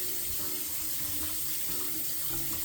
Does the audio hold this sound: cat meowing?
no